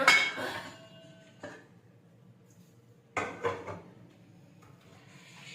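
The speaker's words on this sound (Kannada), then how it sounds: "ಕಡಾಯಿ ತಗೊತಾ ಇದ್ದೀನಿ." A kadai, an Indian wok, is taken out and handled in a home kitchen, giving a few metallic clanks and knocks at the start, a thud around one and a half seconds, and another cluster of clatters later, with quiet pauses between.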